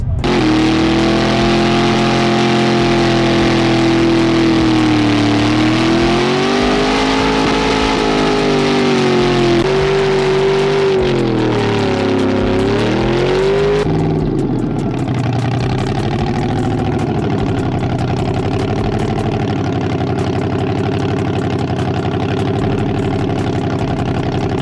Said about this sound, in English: Look at Ryan, he's taking Jake Myers out for a skid